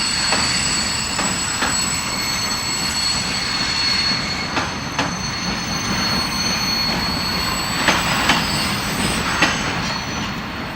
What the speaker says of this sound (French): c'est ce qu'on entendait quand on nous a fait monter dans les wagons et que le train a démarré